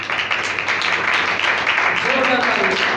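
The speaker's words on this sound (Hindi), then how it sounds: "जोरदार तालियों से" A church congregation at a Sunday service claps loudly and steadily throughout, a dense wash of applause with a voice briefly rising under it near the end.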